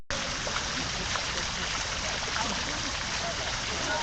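Water is poured steadily during an outdoor ritual, a dense continuous splashing wash heard close and evenly loud from start to finish.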